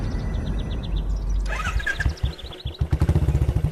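A motorcycle engine running nearby, a loud rough rumble that turns into a fast, even pulsing throb toward the end, with faint chirping tones above it.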